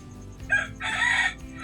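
A rooster crows once, short and then drawn out, at moderate distance over a quiet background.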